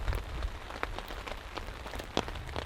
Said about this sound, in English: There's water literally dripping from everything at the moment.